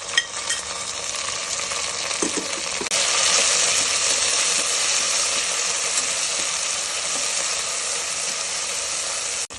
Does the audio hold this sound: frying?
yes